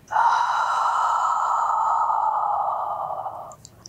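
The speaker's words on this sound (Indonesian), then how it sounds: "And exhale." A long, steady breath is blown out during a shoulder-strengthening exercise on a mat, close and loud, lasting about three and a half seconds before it fades.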